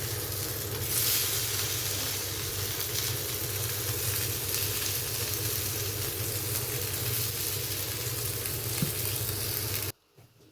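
Fish sizzles in hot oil in a frying pan, a loud, dense, steady hiss that carries almost unchanged before cutting off abruptly near the end.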